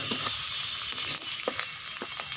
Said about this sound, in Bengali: এখন পেঁয়াজ দিয়ে দেবো দিয়ে দিচ্ছি ভালো করে ভেজে